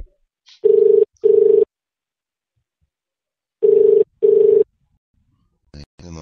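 Telephone tones sound in two pairs of loud, steady buzzing bursts separated by a gap of silence, close and clean, followed by brief clicks near the end.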